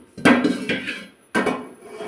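A baby pulls metal pots and cooking vessels out of a home kitchen cupboard and drops them, making loud clanging crashes close by with a ringing rattle after each, three distinct impacts in quick succession.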